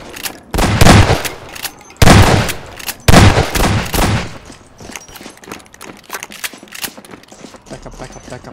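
Rapid bursts of video game gunfire as zombies are shot in a Combine Alliance versus zombies fight, three loud volleys in the first half, then lighter scattered shots.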